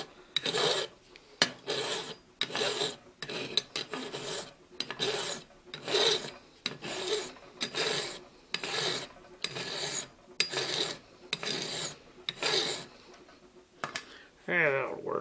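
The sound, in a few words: filing a Ford Falcon XF door handle part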